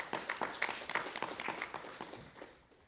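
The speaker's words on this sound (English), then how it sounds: "I think you deserve a very good round of applause for that." Scattered hands clapping from a small audience at a sister cities agreement signing ceremony, a quiet, uneven patter that thins and fades toward the end.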